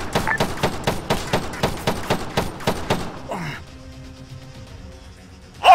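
Machine gun fire in the military shooter Arma III, a steady rhythmic burst of about a dozen heavy shots over three seconds, then fading into low ambience as a voice shouts briefly.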